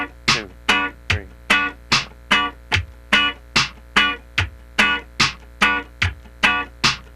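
Funk rhythm guitar playing percussive muted downstrokes on the upbeat, crisp scratchy chops in a steady quick pulse roughly twice per second, close and clear with no other sound.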